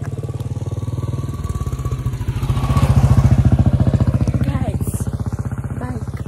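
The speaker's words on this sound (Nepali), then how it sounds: "बाइक गइसक्यो।" A motorcycle engine running close by, a steady throbbing drone that swells around the middle and eases off as it passes, with a voice faintly over it.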